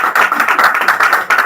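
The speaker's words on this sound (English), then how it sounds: "Applause for us." Brief close clapping at a jazz-themed gathering, a quick run of sharp hand claps lasting about a second and a half.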